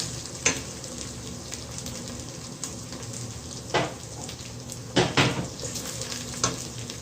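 Garlic and ginger frying in a pan for Sindhi biryani, a continuous close sizzle punctuated by several sharp clinks and scrapes of a utensil against the pan.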